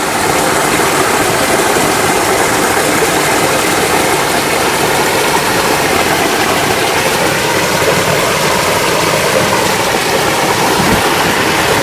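Garden koi pond waterfall pouring in a steady, loud, broadband rush that never lets up, with a mechanical, engine-like hum mixed in and no voices.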